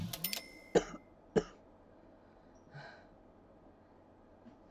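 Two short, sharp coughs close together near the start, followed by a softer breathy throat sound, all fairly quiet with no talking.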